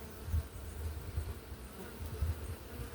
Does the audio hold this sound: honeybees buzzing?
yes